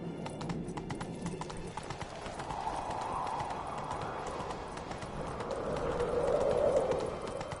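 Roach the horse gallops in The Witcher 3, hooves clip-clopping in a quick steady rhythm close by, over a swelling background of wind and ambient game sound.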